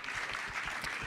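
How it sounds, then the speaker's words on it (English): Brief burst of audience applause at a panel discussion, steady crowd clapping at moderate distance with no voices over it. "For those listening from home, there was a lot of applause after that."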